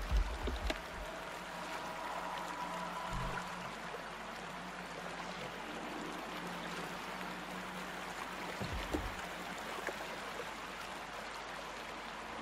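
Flowing stream current in Outlast 2, heard at a lake crossed by raft. A soft continuous rushing of water runs throughout, faint and steady, with a few low thumps and no talk.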